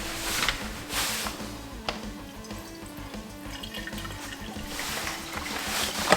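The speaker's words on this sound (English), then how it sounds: "fill the glass carafe with fresh cold water with either 2 or 4 cup marks. Pour the water into the carafe." Fresh cold water poured into the glass carafe of an IMUSA espresso machine, a steady close splashing trickle with a few brief louder gushes, heard alone.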